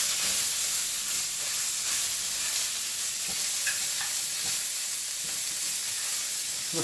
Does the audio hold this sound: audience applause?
no